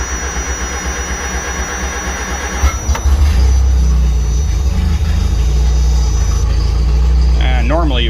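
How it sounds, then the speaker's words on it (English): A 1975 MG Midget with a rebuilt carburetor and choke pulled cranks over and catches from cold, then settles into a loud, steady, rough-running engine drone close by, with a brief voice partway through. "Why don't we go ahead and do a little cold start."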